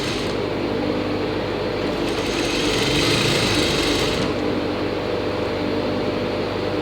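Sewing machine stitching a pant leg seam of cotton fabric, a steady continuous close whirring hum with a brief higher-pitched speed-up in the middle.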